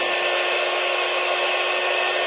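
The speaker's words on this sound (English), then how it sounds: "There's a hair dryer." A hair dryer blowing steadily at close range, a constant airy whoosh with a faint motor whine that holds evenly throughout.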